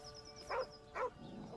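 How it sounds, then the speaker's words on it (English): A dog in the Baldur's Gate 3 video game gives two short, soft barks spaced about half a second apart over a quiet, steady game ambience. "It's a dog."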